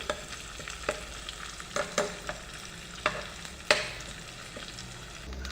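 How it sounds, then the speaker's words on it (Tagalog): Chopped garlic and onion sautéing in a pan for an okra and winged bean dish, with a steady sizzle and about a dozen sharp scraping strokes as a spatula stirs them, close and fairly loud, no talking. "Sangkutsa lang natin yung bawang. Tapos, sibuyas. Yan, mekos-mekos lang."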